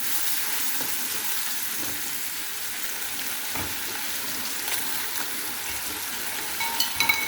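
Carrots and black pepper sizzling in a hot pan while pansit noodles cook, a steady close frying hiss with a few light stirring clicks near the end.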